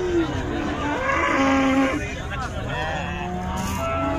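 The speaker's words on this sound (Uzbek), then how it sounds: "Surxondaryo viloyati Muzrobot tumani Zang mol bozorida syomka qilyapmiz." Cattle at the Zang livestock market in Muzrabot district, Surxondaryo, moo and low loudly amid steady market crowd noise, with people talking and a passing vehicle rumbling in the background.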